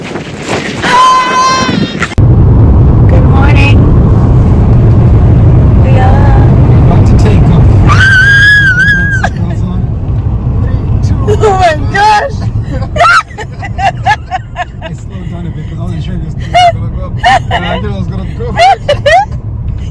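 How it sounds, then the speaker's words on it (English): A car drives fast on narrow, hilly roads at about 45 mph, its steady road rumble and wind buffeting heard from inside the cabin under almost constant excited talk and occasional shouts. "Somebody's driving fast in hills. We're doing 45."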